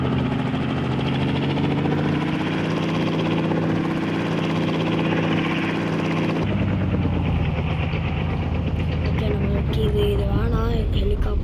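A helicopter in the Indian Bikes Driving 3D video game drones with a steady rotor and engine hum, which shifts and thins partway through, while a player talks over it.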